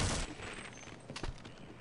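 Gunfire striking a shield in Half-Life, with a loud burst at the start and a couple of sharper impacts later over steady noisy ambience. No talk is heard.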